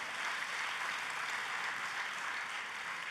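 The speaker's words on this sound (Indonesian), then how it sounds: "Tepuk tangannya boleh yang paling keras." Continuous dense applause from a church congregation during a sermon, broad and steady throughout with no gaps, filling the space evenly at moderate loudness.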